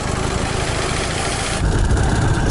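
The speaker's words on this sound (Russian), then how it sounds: "Мотоцикл пока холостой не держит." A Dnepr motorcycle engine runs with a steady mid-to-low mechanical drone while riding through a city, its throttle held open because it will not idle, the note thickening toward the end.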